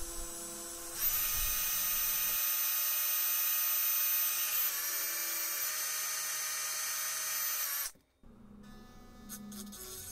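A small rotary tool spins a 1.5 millimeter drill bit into the metal post of a 1982 Toyota Supra Matchbox die-cast car, a sustained high-pitched whine that shifts slightly in pitch before stopping abruptly, then light handling clicks.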